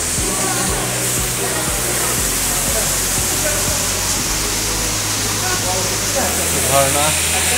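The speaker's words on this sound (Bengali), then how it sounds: "ঝর্ণা।" Steady broadband rush of a waterfall, loud and continuous, inside an indoor attraction at a fish-world exhibit in Cox's Bazar, with low tonal hum and faint voices beneath.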